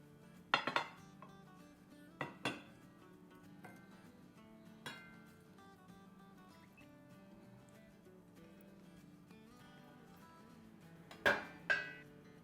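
Dishes and cutlery clink in a home kitchen as Korean BBQ chicken and cucumber and sweet onion salad are plated, with a few sharp, sparse metallic and glass knocks separated by quiet pauses.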